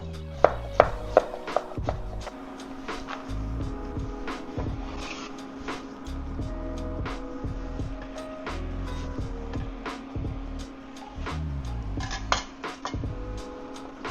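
A kitchen knife chopping celery on a cutting board, with a quick cluster of sharp cuts at the start followed by scattered, irregular taps over a low steady background hum.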